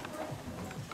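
A horse's hooves clop in a brief, faint run of soft, evenly spaced steps lasting about a second, heard over quiet background noise.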